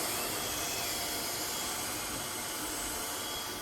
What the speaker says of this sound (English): It vacuums and mops at the same time.